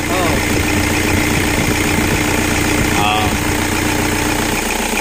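A Toyota Innova engine idles loudly up close while hot, with a clogged breather, giving a steady, continuous rumble with faint mechanical ticking throughout.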